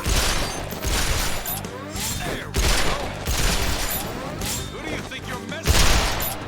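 Dense bursts of video game gunfire fill the scene, overlapping rapid shots and booms in loud sustained volleys, with voices talking faintly underneath.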